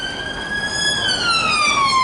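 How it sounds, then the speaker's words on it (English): An ambulance siren wails steadily on an Edinburgh street, loud and close with its pitch sliding downward as it passes, over traffic rumble and without talk. "And there goes an ambulance."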